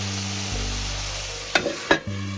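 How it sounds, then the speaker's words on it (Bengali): Onion and tomato for a Bengali-style lalantika fish curry fry in a pan under a steady sizzle, with a couple of sharp spoon scrapes as the mixture is stirred, close up and with no talking. "এই 1 মিনিট পরে খুললাম, একটু নাড়াচাড়া করে দিচ্ছি।"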